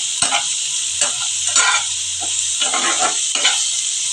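Salt and turmeric fry in a pan with a soft, steady sizzle. Brief scraping stirs of a utensil recur about once a second, close by, with no talk.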